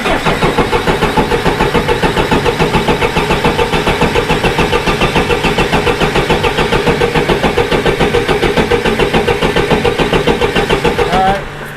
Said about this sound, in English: so we're gonna crank it over a little bit, see if we can get some fuel squirting out